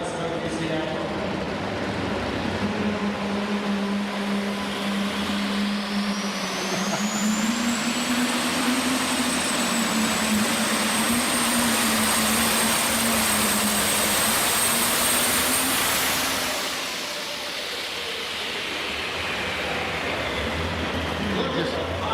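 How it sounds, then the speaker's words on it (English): A pulling tractor engine roars loud and close at a tractor pull, a steady heavy drone with a rising high whine that holds, then fades as the run ends. "That poor tractor needs to hook."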